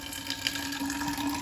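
Tap water running steadily into a container indoors, a continuous close splashing gush with no talk over it.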